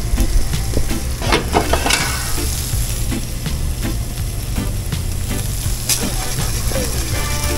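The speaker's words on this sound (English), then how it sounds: "Just saute these down a little bit with the andouille" Peppers, shallots and scallion sautéing with andouille sausage in a hot pan for Cajun shrimp and grits, a steady loud sizzle broken by clanking spatula scrapes and metallic stirring taps throughout.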